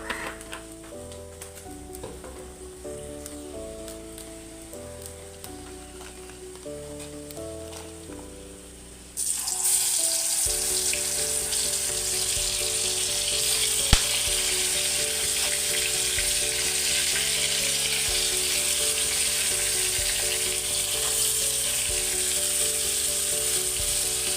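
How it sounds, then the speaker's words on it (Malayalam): Loud sizzling as crab fries in a little hot oil, steady and continuous, with soft tonal music under it that gets swamped once the frying starts. "കുറച്ച് എണ്ണ ഒഴിച്ചാൽ ജസ്റ്റ് ഒന്ന് ഒന്ന് ജസ്റ്റ് ഒന്ന് ഫ്രൈ ചെയ്തെടുത്താൽ മതി കേട്ടോ"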